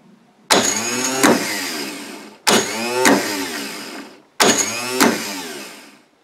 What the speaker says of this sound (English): The solenoid's connecting properly and it's turning that motor over.